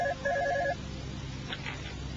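A telephone being dialed: a short run of clear two-tone electronic dial beeps in quick succession near the start, then a low background hum with faint clicks, no voices.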